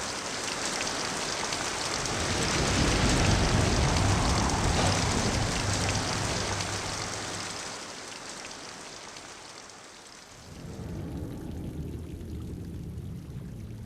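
Heavy rain and wind pour steadily in a dense, loud wash, swelling in the middle, easing briefly, then returning strongly.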